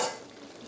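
Sautéed masala tipped into a pan of reduced irumban puli (bilimbi) curry and stirred, a brief close scrape and soft sizzle that fades over under a second.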